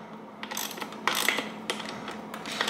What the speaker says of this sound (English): Then use the ratchet wrench